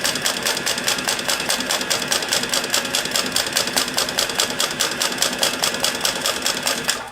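Pfaff 335 H3 industrial sewing machine with a vibrating binder running steadily along a seam, a fast even mechanical stitching rhythm, close and loud, without pauses and with no talking.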